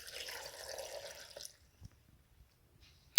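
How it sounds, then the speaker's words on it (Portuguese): Water pours in a steady, gentle stream into a pan holding orange for about a second and a half, followed by near silence with a few faint drips and a sharp clink at the end. "A gente vai colocar 1 copinho d'água."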